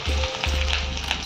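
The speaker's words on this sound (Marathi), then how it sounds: "इथे मी कढईमध्ये तेल घेतलं आहे थोडंसं. हा कांदा परतून घ्यायचा." Onion frying in a little oil in a wok gives a steady close sizzle, with a low hum of the stove underneath.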